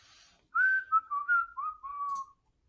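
A person whistles a short intro-style tune, a clear melodic phrase of several connected notes, sliding and held, alone in a quiet room for about two seconds before silence.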